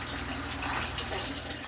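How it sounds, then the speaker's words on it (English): Water trickles and splashes steadily as it drains from an aquaponics plant bed through a pipe with small cut holes back down into the fish tank, a continuous close wash of flowing water. "the water will then slide back down to my pipe right here, and I've cut little holes in it so the water will drain back down to the fish"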